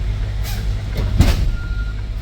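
A semi truck backs up with a short reversing beep over its low, steady diesel rumble, close by, with a brief hiss or clunk near the middle and no one speaking.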